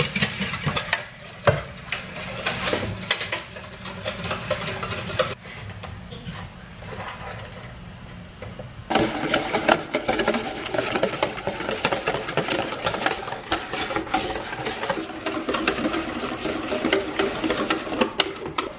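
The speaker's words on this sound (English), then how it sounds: "I gotta whisk really good here." Egg yolks for hollandaise whisked hard and fast in an overheated bowl, giving a steady, dense rattling clatter that runs throughout and grows louder and busier partway through, with no talking.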